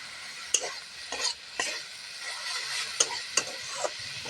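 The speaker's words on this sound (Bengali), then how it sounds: "এবার বেগুনটাকে ঢেলে দেবো।" Eggplant tumbled into a hot pan and stirred for a Bengali vegetable dish with greens and peas, a soft sizzle under a series of scraping spatula strokes and metal clinks at a steady, close pace.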